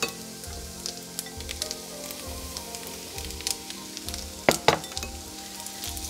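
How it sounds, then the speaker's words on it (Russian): Onion and pomegranate seeds frying in a pan, a soft steady sizzle with sharp clinks and scrapes of a utensil stirring now and then, the loudest pair near the end. "Теперь лук надо будет обжарить до полупрозрачного состояния."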